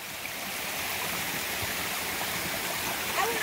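A waterfall along the Appalachian Trail gives off a constant broad rush of falling water, close and steady, with a faint voice briefly audible near the end.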